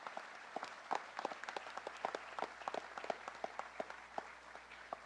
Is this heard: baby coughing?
no